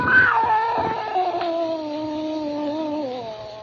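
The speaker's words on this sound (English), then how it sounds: "It was a cat." A scrawny cat yowls aboard a ship in a radio drama, one long, close, wavering caterwaul that slides slowly downward and fades out alone.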